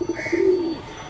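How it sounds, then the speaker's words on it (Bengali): Pet pigeons cooing close by, a soft low rolling coo that swells and fades over about a second, with no talk. "শুনুন পোষা কবুতর"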